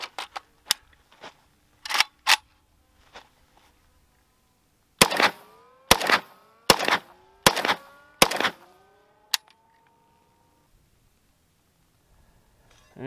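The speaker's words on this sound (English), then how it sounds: "is it even worth shooting the AK at it?" AK rifle fire at a copper target outdoors: a series of sharp, loud cracks, some spaced apart and others in a quicker cluster, each trailing a ringing echo, with no talking.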